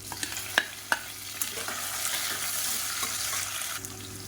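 Long-sliced large onions and two whole green chillies fry in a pan for a chicken pepper varuval, with steady sizzling and a few sharp spoon clinks on the pan near the start.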